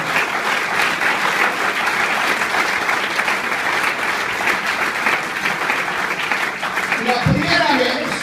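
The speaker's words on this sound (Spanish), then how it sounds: "Un aplauso para el Señor Jesús" Sustained applause from a church congregation, dense steady clapping throughout, with a brief voice breaking through near the end.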